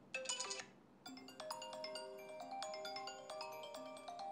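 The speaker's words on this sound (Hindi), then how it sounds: "ये है आई एस सेवेंटीन का जो रिंगटोन है" A bright, chiming iPhone ringtone from iOS 17 plays a short melodic phrase, stops briefly, then starts a fuller looping tune, clear and close.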